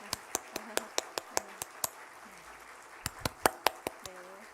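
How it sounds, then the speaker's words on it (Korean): A church congregation at a Korean Presbyterian service in Jamsil applauds: a run of sharp, evenly spaced claps, a short lull with faint voices, then another burst of crisp claps in a large room. "박수로 화답 부탁드립니다."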